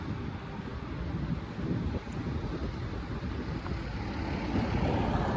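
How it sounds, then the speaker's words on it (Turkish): Strong wind buffets the microphone outdoors while pigeons fly, a constant, loud rumbling roar that surges slightly in gusts throughout. "Çok sert bir rüzgar var arkadaşlar."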